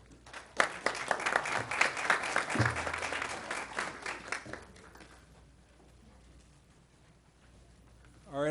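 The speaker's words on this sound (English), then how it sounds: "please give a round of applause for State Senator Bobby Powell" An audience at a community empowerment discussion in Riviera Beach applauds for State Senator Bobby Powell, a dense burst of clapping that fades out after about five seconds before quiet room tone returns.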